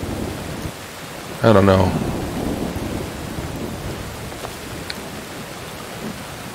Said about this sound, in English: I like the way the rain sounds, the thunder.